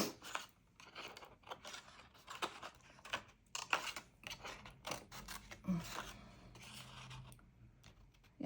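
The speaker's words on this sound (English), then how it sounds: "I'm now going to fussy cut this out as well, and then I'm going to layer it onto some paper" Scissors snip and scrape in short irregular bursts while fussy cutting around a stamped paper design for a card layer, close and quiet, with no voices.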